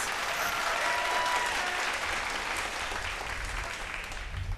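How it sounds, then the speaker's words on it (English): Audience applause at a televised vocal battle show, a thick, continuous roar of clapping that stays loud and even, fading a little toward the close. "Another round of applause, please, for all our sponsors and production partners"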